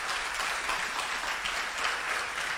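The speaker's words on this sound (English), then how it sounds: "A round of applause for the two of them, please." An audience at a high school debate claps for two speakers, steady continuous applause throughout, moderately loud with no talk over it.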